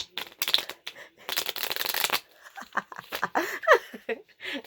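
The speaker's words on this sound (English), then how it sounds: "I'm going to shuffle it a little more" Cards being shuffled by hand in short bursts of papery flicks, with a person talking briefly and an excited voice between shuffles.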